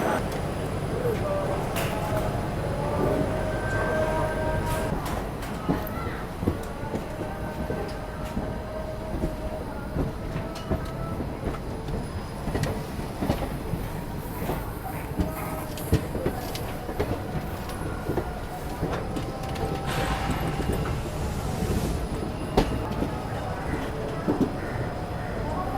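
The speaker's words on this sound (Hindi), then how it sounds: "3:40 के आसपास अपनी ट्रेन यहाँ पहुँची है।" A passenger train on a long-distance Indian rail journey, standing at a station and moving, with a steady rumble of the carriage and rattling, clacking wheels throughout, close and continuous, with people talking in the background.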